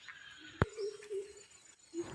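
A bird calls with a low, soft cooing phrase, then a brief second coo after a pause, heard at a short distance alongside one sharp knock, in a home garden with banana trees.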